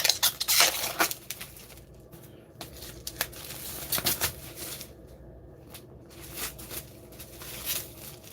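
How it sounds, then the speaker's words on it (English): Shrink wrap is peeled and torn off a Beatles Revolver vinyl LP box set, bursts of close crinkling and crackling plastic separated by short pauses. "Yes, I am taking the shrink wrap off."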